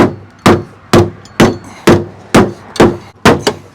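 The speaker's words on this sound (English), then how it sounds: "Just keep hitting it with a hammer" A hammer pounds a stuck car wheel on a Toyota AE92 to knock it loose: seven loud, sharp metallic blows at a steady half-second rhythm, close up, with no talking.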